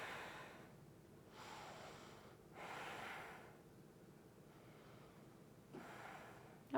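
Slow, deep breaths are taken during a yoga warrior pose: three soft, airy inhale-exhale swells, quiet and close, spaced a couple of seconds apart.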